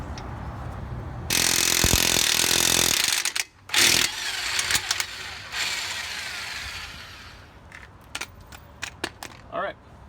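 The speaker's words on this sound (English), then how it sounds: "pull the impact out, get it tightened down" Impact wrench tightening a lug nut during a rear lug stud replacement, a loud buzzing burst of about two seconds followed by shorter hammering bursts and clicks, with a voice talking in places.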